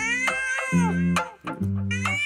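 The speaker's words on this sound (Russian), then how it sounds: "Это просто звук реального кота." A real cat meows several times in a row, loud and close, each call drawn out and wavering in pitch, with no voices over it.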